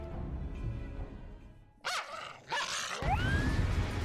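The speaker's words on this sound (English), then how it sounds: "Sounded like some kind of wolf, dog creature." A wolf- or dog-like creature in Final Fantasy XIV makes sharp barking and yelping calls, two abrupt bursts and then a rising whine over a quiet game background.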